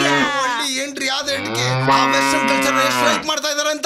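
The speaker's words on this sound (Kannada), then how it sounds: "ಹಸುಗಳೆಲ್ಲ ಕೂಗ್ತಾ ಇದೆ" Cattle in a village low with a long, loud, drawn-out moo close by, while someone speaks over and around it.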